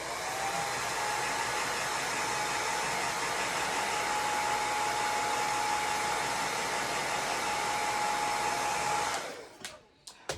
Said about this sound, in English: I'm going to dry this real quick because I'm just going to use a little hair dryer.